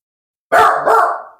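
A dog gives two loud barks right up close, sharp and short and run almost together, in an otherwise quiet indoor room with no talk.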